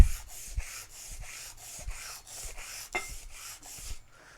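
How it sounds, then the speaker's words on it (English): Rhythmic sanding strokes on the dinged-up surface of an anvil, about a dozen even back-and-forth rasps at a steady pace, close and fairly quiet, ending abruptly. "Probably should just get the belt sander out, to be totally honest."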